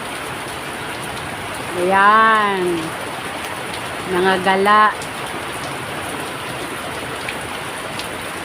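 Heavy rain pours steadily onto a house roof as a constant dense hiss, with two short bursts of a person talking over it.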